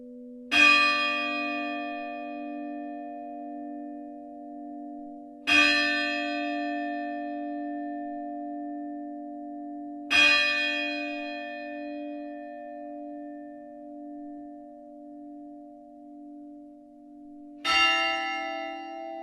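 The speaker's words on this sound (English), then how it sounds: "we want to show you the bells, the bell tower, and some of our bell ringers" Church bells in a bell tower strike four separate loud, ringing tolls spaced several seconds apart, each with a sharp onset and a long shimmering decay, with no voices.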